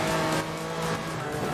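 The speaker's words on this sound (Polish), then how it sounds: "Zobaczcie, jedzie sobie Ferrarka." A Ferrari, an A-class car in Forza Horizon 4 racing at a meet for pre-1980s German and Italian cars, drives past with a steady engine drone and a faint tire hiss.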